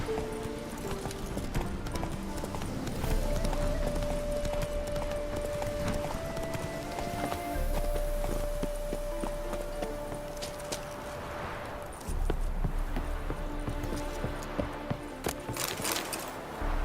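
Roach, a horse in The Witcher 3, gallops with a steady rhythmic clip-clop of hooves over a continuous game music bed, close and fairly loud throughout.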